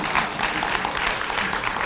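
Church congregation applauding in a large sanctuary, a dense, continuous roar of many hands clapping at even loudness from start to finish.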